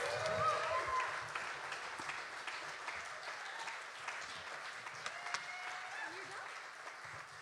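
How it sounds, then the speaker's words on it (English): Applause from a small live concert audience at An Lanntair, a steady patter of clapping that is moderately quiet and fairly even, tapering slightly toward the end, with a few voices mixed in. "Huge round of applause for Greg and Evan, please."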